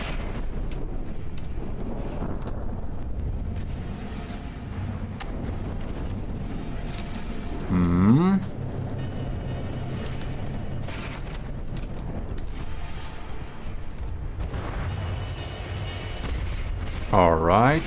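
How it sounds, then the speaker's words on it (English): Mortars fire in the naval combat game From the Depths under a dense, constant rumble of in-game battle, with occasional booms and rising whines standing out, and someone talking over the action. "There we got some mortars popping in there too"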